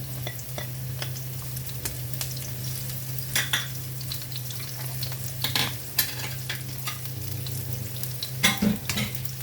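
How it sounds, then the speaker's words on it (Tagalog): Onion sautéing in a pan for Filipino monggo with alugbati, a continuous close sizzle over a low steady hum, punctuated by intermittent scrapes and taps of a spatula stirring. "Isunod na natin ang ating sibuyas."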